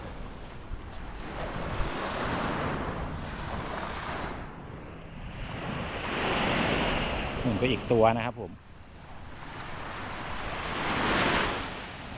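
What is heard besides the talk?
ocean waves on beach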